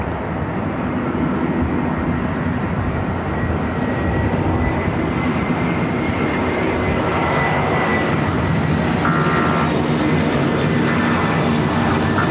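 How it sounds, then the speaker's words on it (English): Airliner taking off from runway 24 left at LAX: a loud, steady roar of jet engines at full power that holds for the whole stretch, with no talking. "runway 24 left, clear for takeoff"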